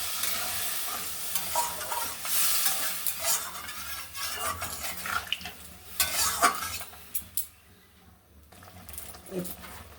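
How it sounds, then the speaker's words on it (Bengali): Water poured into spice paste frying in a pan for a potol (pointed gourd) curry gives a loud, hissing sizzle that gradually settles, with stirring and pan clinks scattered throughout. "এবার দেখুন আমি একটু জল ঢেলে দিচ্ছি।"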